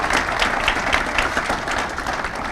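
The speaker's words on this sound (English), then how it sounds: "Let's please give another round of applause to all of our students who were honored here today." A room full of people applauds honored students at a Rotary Club career technical awards ceremony, a steady wash of many hands clapping, fairly loud and unbroken, with no speech over it.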